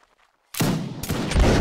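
Musket volley in the Mount and Musket battle game: after a silence, a loud ragged crash of many shots erupts, and a second wave of fire follows and rolls on without pause.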